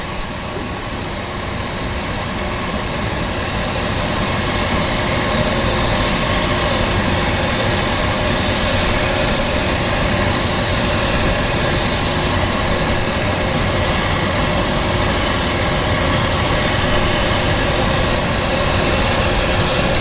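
A turbine Otter floatplane at a Vancouver float base with its engine running, a loud, steady turbine roar lasting throughout with no break.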